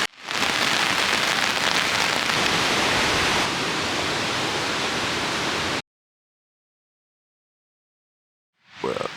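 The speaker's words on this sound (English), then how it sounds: "Update for the morning, it is still raining." Steady, loud rain pattering on a surface in Fiordland, New Zealand, a dense hiss that continues for several seconds, then cuts to silence before a brief return.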